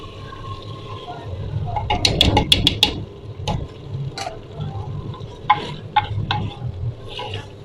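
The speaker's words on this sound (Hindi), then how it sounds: "अब मैं इसके अंदर दाल ऐड करूँगी।" Chana dal tipped into frying tomato masala, where the oil has separated, and stirred, giving a burst of sizzling and scraping followed by softer intermittent stirring clatters, close by, with a voice faintly present.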